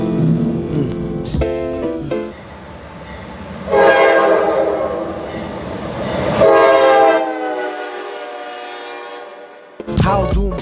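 A CSX GE C40-8 diesel locomotive with a turbocharged 16-cylinder FDL engine passes loudly, its multi-chime horn blowing several long blasts over engine rumble and rolling wheels.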